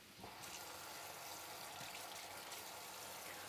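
Hot water pours from a kettle into a cooking pot in a home kitchen, a steady, loud splashing rush that begins sharply and continues unbroken.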